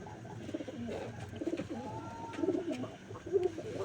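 Pigeons in a loft coo nearby in soft, repeated throaty rolls over faint background rustling, with several separate coos across the few seconds.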